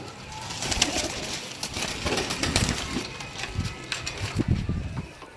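Pigeons coo repeatedly at close range in a small group kept for sale, with soft rhythmic throaty calls and some rustling and movement throughout.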